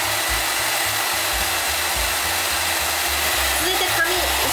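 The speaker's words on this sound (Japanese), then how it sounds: "ポイントとしては前髪を引っ張りながら乾かしてます。" A hair dryer blows hair dry continuously, loud and close, with a steady roaring airflow and small shifts in pitch as it moves around the fringe, no talking heard.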